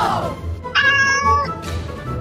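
A cat meows loudly and close by, one drawn-out, rising cry that stands clearly above a quiet background with some brief noise around it.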